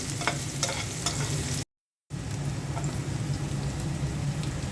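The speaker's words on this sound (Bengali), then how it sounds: "কাঁচামরিচ দিয়ে দিলাম, পেঁয়াজটা হালকা ভেজে তারপর ঢ্যাঁড়সটা দিয়ে দেব" Onion and green chilies frying in a pan, a steady broadband sizzle with scraping stirs, broken by a half-second gap of silence before the sizzling resumes at the same level.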